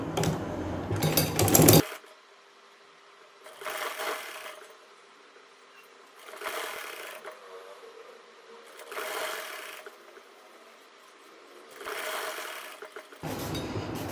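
A sewing machine stitches lace onto a kameez hem in short bursts, a busy rapid whirring stitch repeating about every two to three seconds with quiet pauses between runs.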